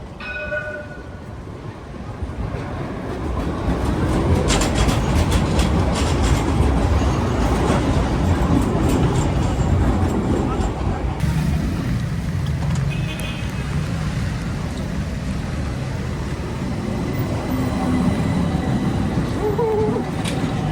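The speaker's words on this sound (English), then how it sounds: "Have you guys counted how many trams passed by since I started walking?" Trams rumble past along a busy Istanbul street between Sultanahmet and Eminönü, a loud, steady rolling roar with rail clatter and traffic noise, with voices faintly in the background.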